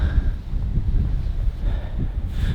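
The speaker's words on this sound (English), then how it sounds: "this windy morning, and the waves are just crushing in on the beach" Gusty wind buffets the microphone on a windy morning at an ocean beach, with a steady low roar of waves crashing on the shore beneath it.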